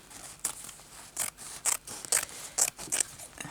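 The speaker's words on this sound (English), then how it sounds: "I'm just going to cut this piece off here" Sharp scissor snips cutting a piece off for a handmade journal page, about eight crisp separate cuts in an uneven rhythm, close and fairly quiet with no talking.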